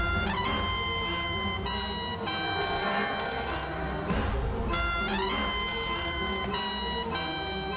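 A telephone rings on a call in a Kannada film scene, sounding in repeated bursts of bright electronic tones separated by short pauses over faint background.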